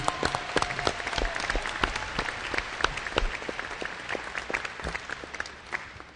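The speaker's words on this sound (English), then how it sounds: "Give her a big round of applause for all the absentee." Steady applause from a large crowd at a 2013 convocation in Orillia, dense overlapping claps continuing throughout at a moderate, even level.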